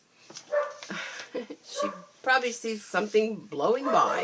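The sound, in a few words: dog barking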